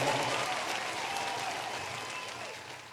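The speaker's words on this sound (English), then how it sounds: "Come on, give me a round of applause." Audience applause from a live comedy-show crowd, a dense steady clapping wash that holds loud throughout and eases slightly toward the end, with no talking over it.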